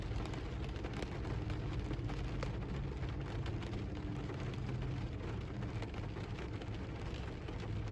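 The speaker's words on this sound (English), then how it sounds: "So we are going to deliver in the rain." Steady rain falls throughout as continuous broadband hiss with dense patter, close and even in loudness, while someone is out delivering; no voices.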